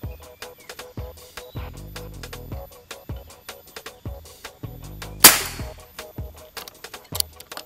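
One sharp, loud Black Monkey 360 CC air rifle shot cracks out near the end, preceded by a series of steady mechanical clicks and ticking.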